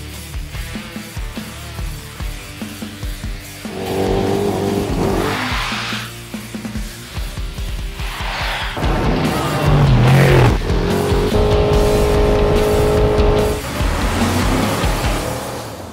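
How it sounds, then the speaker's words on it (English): A car is thrown sideways on Toyo Open Country AT3 all-terrain tires. The engine revs loudly in rising and falling sweeps, with tire scrubbing and squeal, close and continuous with no voices. "We're throwing it sideways today and we're talking about the new Toyo AT3 Open Country."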